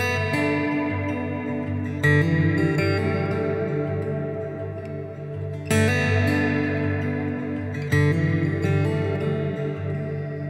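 An acoustic guitar played through a strong reverb effect with the wet mix turned high, strummed chords ringing out into long, washy tails that blur together, loud and alone.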